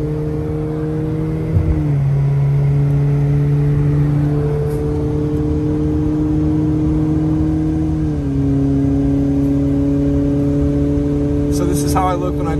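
Steady engine drone and road noise from inside a car cruising on a mountain highway between Hwy 330 and Hwy 18 toward Big Bear Lake, with gear-like pitch shifts and constant loud hum throughout, no talk.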